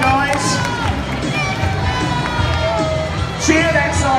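A crowd of spectators cheers and whoops loudly at a Crufts 2016 Kennel Club Good Citizen dog display, with shouts and children's voices rising and falling over a few seconds and a presenter's voice mixed in.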